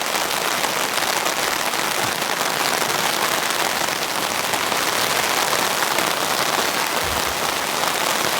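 A full deluge pounds a nylon camping tent, the downpour a loud, constant wash of countless drops striking the fabric close overhead.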